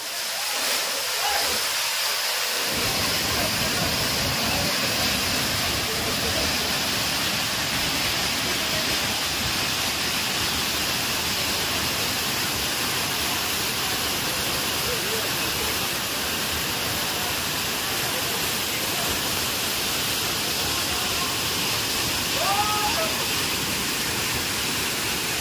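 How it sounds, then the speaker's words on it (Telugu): Vibhuti Falls in Karnataka pours as a loud, steady, broadband roar that holds nearly unchanged throughout, heard up close with spray in the air. "అసలు ఈ వాటర్ ఫాల్ చూడండి అసలు ఎంత బాగుందో"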